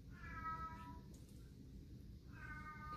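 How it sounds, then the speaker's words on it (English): A cat meows twice indoors, a short plaintive call at the start and another near the end, faint and close against a low steady background hum. "so now he's going to meow for me."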